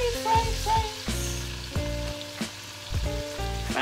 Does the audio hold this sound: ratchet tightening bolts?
no